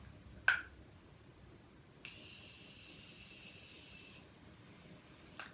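A single steady hiss of fine makeup setting spray mist lasting about two seconds, close and clear, preceded by a short sharp click.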